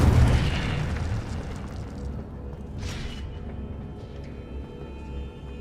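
Spell effects and explosions in Hogwarts Legacy on PS5: a loud deep boom opens, then a long fading rumble with a brief whooshing burst near the middle, no speech over it.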